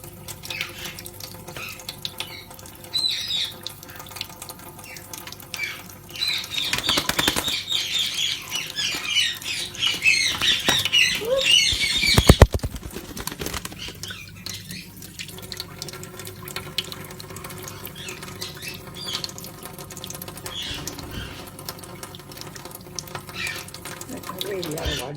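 Indian ringneck parrot bathing under running tap water, a steady faucet stream with bursts of splashing and wing flapping, strongest in the middle, alongside occasional squawks and a person talking in the background.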